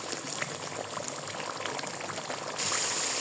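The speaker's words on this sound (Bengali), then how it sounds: "মশলাটা সুন্দর করে কষিয়ে নিচ্ছি।" Spice paste with salt, turmeric and coriander powder fries in a pan, a steady dense sizzle and bubbling that holds close and even throughout, growing slightly louder near the end.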